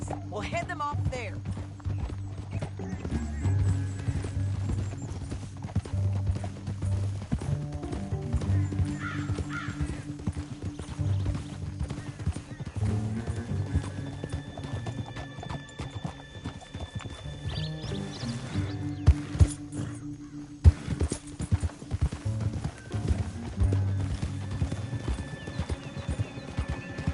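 Rapid rhythmic hoofbeats of galloping horses in Red Dead Redemption 2 run throughout, with a horse whinnying and voices talking over the steady clatter.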